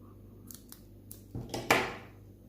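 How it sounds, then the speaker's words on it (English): Scissors cutting crochet yarn: a few light snips, then two louder, closer cuts in quick succession near the end, in an otherwise quiet room. "Then cut the yarn."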